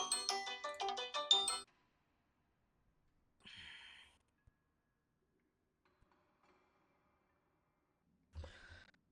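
A phone ringtone plays during a War Thunder live stream: a bright melodic burst of rapid tones lasting under two seconds, followed by near silence broken only by faint brief rustles and breaths.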